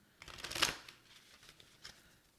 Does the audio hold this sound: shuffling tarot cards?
yes